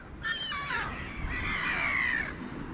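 Gulls calling over a parking lot, one bird giving a run of harsh, wavering squawks followed by a longer drawn-out cry, close and loud against steady background noise.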